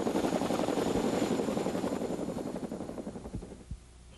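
A helicopter airlifting a 105mm howitzer, its rotor chop a loud, steady throb that slowly fades as the aircraft moves away.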